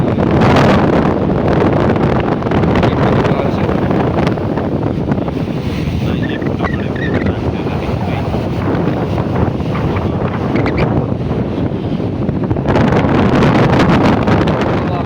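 Strong gusty wind roars and buffets the microphone, with sea waves rumbling beneath, loud and unbroken throughout, at Gomti Ghat on the coast at Dwarka.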